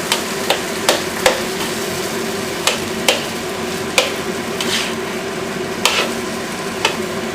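Cooked rice being broken up and stirred in a pan, with a series of sharp utensil scrapes and taps against the pan, spaced irregularly over a soft background sizzle.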